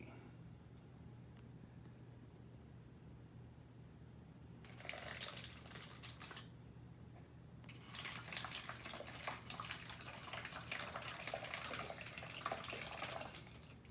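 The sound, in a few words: water poured through a funnel into a bottle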